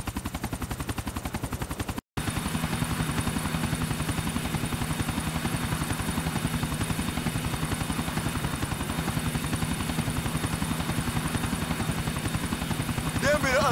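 A helicopter in Grand Theft Auto IV thrums steadily with a fast, continuous rotor chop, loud and close, with a brief dropout near the start and a burst of faint gunfire sounding in the mix.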